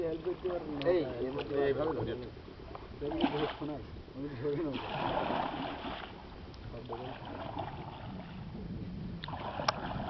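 A small wooden rowboat is paddled through mangrove water in the Sundarbans, with soft oar splashes and sloshing heard faintly beneath people talking throughout.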